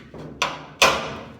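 Hammer blows on a car body panel being worked to remove dents: two sharp metallic impacts about half a second apart, each ringing briefly, over faint background noise.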